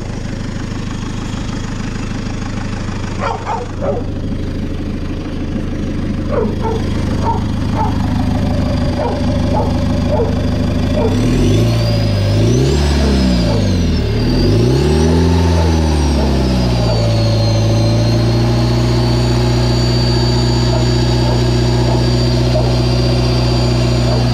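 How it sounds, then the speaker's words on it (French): A Renault Ulysse engine fitted with a new turbo idles roughly, then revs up and down several times with a rising turbo whine, loud and close, before settling into a higher steady drone. "J'aurais besoin que tu accélères pour que je vois s'il y a une fuite d'huile."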